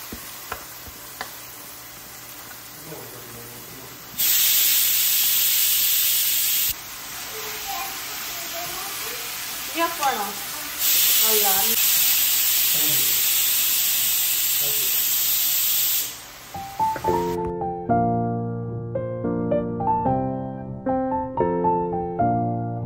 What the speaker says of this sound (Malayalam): അങ്ങനെ ഉപ്പൊക്കെ ഇട്ടുകൊണ്ട് ഒന്ന് പാടാൻ വെച്ചിട്ടുണ്ട് സവാള